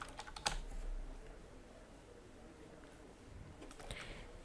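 Keys clatter on a computer keyboard as a search term is typed, a quick burst of soft clicks at the start and another brief run near the end, faint and close in a quiet room.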